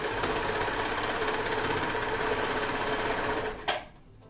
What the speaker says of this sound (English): I'm just gonna serge these edges